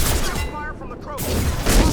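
Krogan gunfire in the Mass Effect 2 Legendary Edition game: a loud, dense fusillade of rapid shots with a brief lull, then heavy firing bursts again, mixed with game effects.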